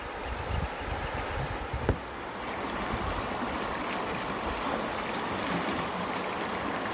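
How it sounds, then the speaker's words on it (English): Fast-moving water rushes out of a narrow corner on the West Fork of Ohio Brush Creek in spring as a kayak passes, a steady, loud, close wash with wind buffeting the microphone and no voices. "water's moving pretty good as it comes out of this little corner here"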